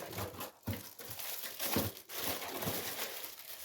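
Quiet crinkling of plastic packaging, with soft irregular rustles and crackles as it is handled and opened.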